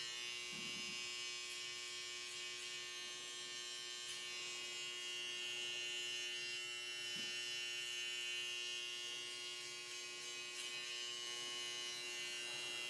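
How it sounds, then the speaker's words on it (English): An electric saber trimmer buzzes steadily and fairly quietly while cutting hair during a self-fade, holding one continuous tonal hum with slight changes as it moves. "we're gonna jump over to the saber trimmer and just try to bust out the bottom piece of that line there"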